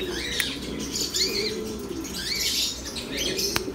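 Black pigeons in a flock of quality birds flap their wings in repeated bursts close by, with soft cooing and light chirps mixed in and no talking.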